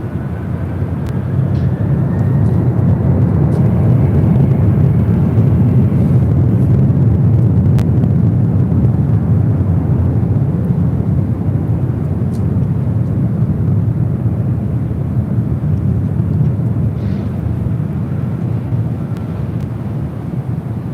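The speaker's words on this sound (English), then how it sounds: "This is Delta Airlines 465 taking off to Honolulu on a 767-300ER." Delta Boeing 767-300ER jet taking off from runway 24L at LAX, a loud, steady roar of engines lasting about twenty seconds and fading slightly toward the end.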